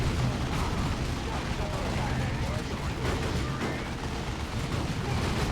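Grenade blast in the Dawn of War 2 strategy game, a dense rumbling battle din of explosions and gunfire running continuously through the short moment.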